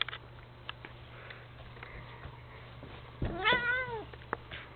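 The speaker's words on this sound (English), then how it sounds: "Yep, that's his little meow" A pet cat meows once, a rising-and-falling call close by, after a stretch of quiet room noise with faint soft shuffling.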